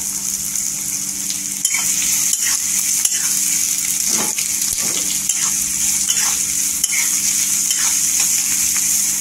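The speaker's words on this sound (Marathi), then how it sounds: "तेलावर परतून घ्यायचा कांदा।" Sliced onions sautéing in oil with curry leaves, a loud steady sizzle close by with intermittent stirring scrapes and light utensil taps throughout.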